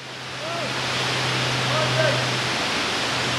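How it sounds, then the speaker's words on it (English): A waterfall's constant broadband hiss rises at the start and then holds steady and fairly loud, with a low hum underneath and faint bird-like chirps over the top. "It's only a fucking shit waterfall."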